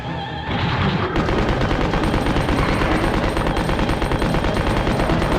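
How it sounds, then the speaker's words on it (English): Sustained machine gun fire in Resident Evil 2, a loud, dense, continuous rattle of rapid shots that starts after a brief opening blast and keeps going to the end without talk. "I'm just going to plug it with machine gun bullets until it dies"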